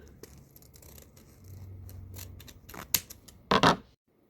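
Scissors snip through folded Christmas bow ribbon in a few quick, crisp cuts, the last two the loudest and closest, following a stretch of quiet handling sounds.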